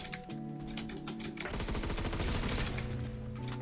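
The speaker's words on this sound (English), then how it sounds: "this gun kind of shreds though if you can just like hit him with all your bullets" Rapid automatic fire from a C7A2 rifle in the Phantom Forces shooter game, a dense rattling burst of shots that continues steadily and loud through the whole stretch.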